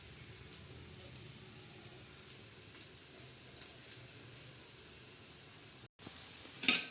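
Onion and green chillies sizzle steadily in a pan for egg bhurji, a low continuous fry with occasional soft stirring scrapes and a brief clatter near the end.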